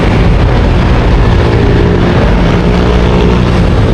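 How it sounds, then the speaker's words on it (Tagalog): A big bike motorcycle engine roars loud and close, a dense continuous rumble with steady low-pitched drone filling the whole span, no speech over it. "isang big bike po, ano, big bike na motor."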